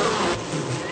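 A honeybee flies back to its hive in a close, loud, continuous buzz that wavers slightly in pitch as it goes.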